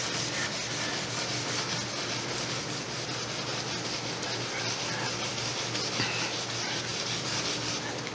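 Paint being scraped off wood in a steady, continuous rasping rub, close and fairly loud, with no pauses and no voices.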